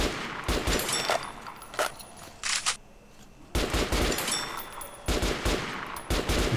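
Gunfire in Metro Last Light Redux: sharp bursts of rapid automatic shots in clusters, a pause in the middle, then more volleys, loud and close with a reverberant tail.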